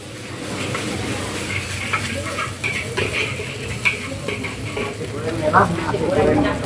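Javanese red fried rice (nasi goreng merah) stir-fried by a street vendor, a steady close sizzle with scraping and clinking of the spatula in the pan, while voices chat throughout.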